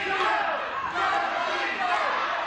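A wrestling crowd roars at a televised NWA tag team match in Nashville, Tennessee, a steady, loud wash of cheering and shouting that fills the whole clip.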